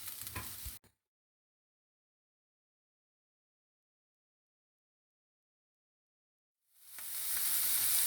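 Chopped onion sautéing in a pan while cooking dal with eggplant, a short sizzle at the start, then a long silence before the frying hiss returns, louder and steady, at the end.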